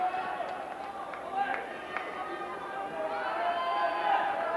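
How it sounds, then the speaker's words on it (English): A crowd at a boys' city conference swimming championship roars and cheers in a large, echoing natatorium before the medley relay, a sustained noisy din swelling toward the end, with a few sharp claps. "You can hear the crowd roar in excitement go up here"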